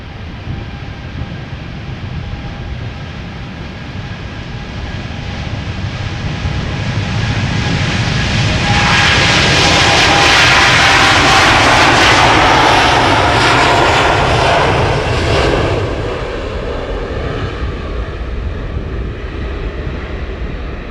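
A KLM Boeing 787-10 Dreamliner, about four years old, taking off from Amsterdam Schiphol bound for Los Angeles, its jet engines swelling into a loud, close roar that peaks midway and then slowly fades.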